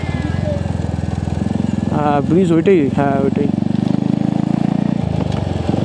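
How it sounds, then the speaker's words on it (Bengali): Steady motorcycle engine drone while riding along a mountain road near Lava, Kalimpong, continuous and close, with people talking briefly over it midway. "অনেকক্ষণ থেকে বাইক চালাইতেছি"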